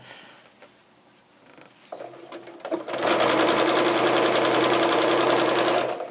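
A sewing machine stitches along a quilt's edge at a quarter-inch seam, starting with a few slow needle strokes before settling into a loud, steady, fast mechanical whir close by.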